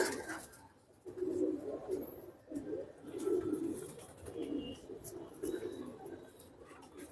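Pigeons coo quietly in low, rolling phrases that repeat every second or so, with faint background noise between calls.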